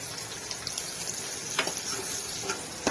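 Curry leaves and asafoetida sizzle in hot tempering oil for kadhi, a bright crackling hiss with a few sharper pops and spits, close and continuous with no voices.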